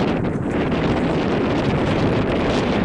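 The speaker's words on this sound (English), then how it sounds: "Nice day, but it's windy." Steady, roaring wind buffets the microphone outdoors at a camp, a dense continuous rush with no pauses and no voices.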